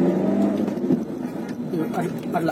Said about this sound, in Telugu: ఆర్పిఎం రేజ్ మీకు వినిపించి ఉంటుంది కదా, అందుకనే ఎక్కువ యాక్సలరేటర్ ఇవ్వకూడదు